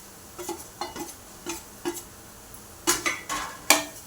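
A spoon stirs and scrapes an egg mixture with spices and fenugreek leaves in a pan, giving about ten separate scraping knocks against the metal, some louder near the end, over a faint background hiss.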